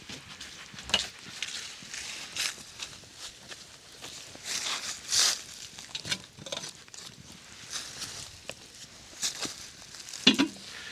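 Beef stew with vegetables cooks in a pot over a campfire at a cold-weather campsite, giving a soft, steady sizzle and crackle with scattered light knocks and footsteps nearby.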